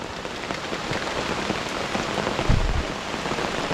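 Heavy rain patters densely on surfaces close by, a continuous even wash of drops with a brief louder thump near the end, no voices heard.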